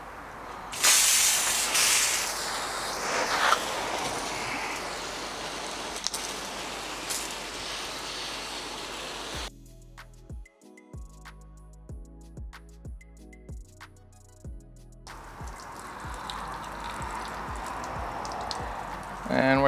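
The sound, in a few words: WaterPORT portable water sprayer spraying in flat mode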